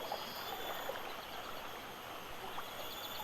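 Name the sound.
flowing water near rice terraces in video game Heaven's Vault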